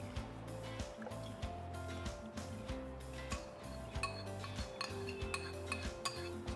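Steady metallic scraping and clinking of a spoon stirring pepper kuzhambu thickened with toor dal in a pot, continuous and close with no talk.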